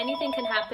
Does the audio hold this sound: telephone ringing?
yes